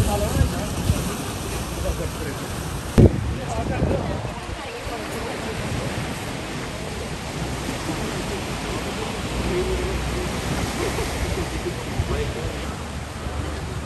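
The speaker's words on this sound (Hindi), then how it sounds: "पानी की आवाज़ सुनिए" Continuous rush of Pacific Ocean water and waves by a pier with wind buffeting the microphone, a steady roar with one sharp knock partway through.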